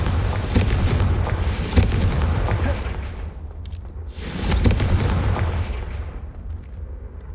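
Confringo blasting spell going off in Hogwarts Legacy, two loud explosive booms a few seconds apart, each a broad burst with a rumbling tail that dies away, over steady low game ambience.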